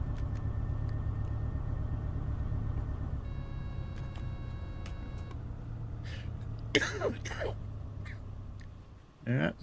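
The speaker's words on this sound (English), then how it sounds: "Sorry for the cough." A man coughs and clears his throat a few times near the end, over the steady drone of a DB BR 294 diesel locomotive cruising in Train Sim World 6.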